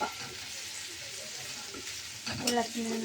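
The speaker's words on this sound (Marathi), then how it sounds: "जिरं मोहरी लसूण आलं कढीपत्ता हे हलवून घ्यायचं तेलात चांगलं." Cumin, mustard seeds, garlic, ginger and curry leaves crackle and sizzle in hot oil as they are stirred, a steady fry that swells briefly with a scrape near the end.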